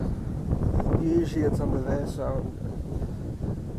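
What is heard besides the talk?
wind on a mountain top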